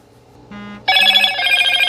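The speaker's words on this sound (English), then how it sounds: "I hear that notification sound." Motorola smartphone notification chime, a bright layered electronic tone that sounds loud and close, following a brief ringing alert tone with a low hum beneath, no speech.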